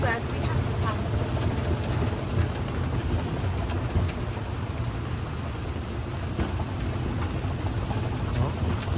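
Steady rain falls around an outdoor buggy path at a Ritz-Carlton resort in Ubud, Bali, a continuous broadband hiss of drops on surfaces with a low rumble beneath, while people talk nearby.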